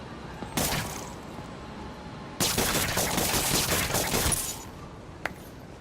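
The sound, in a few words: gunfire in Marvel's Spider-Man video game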